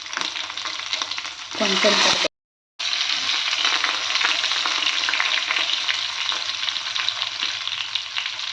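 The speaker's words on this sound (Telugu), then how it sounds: "ఇవి చిట్పట్లాడుతున్నాయండి. వెల్లుల్లి వేస్తున్నాను." Garlic dropped into hot oil already crackling with cumin seeds, a loud dense sizzle and spatter with a brief stirring rustle, cut by a short silent gap before the frying resumes; one quick spoken word.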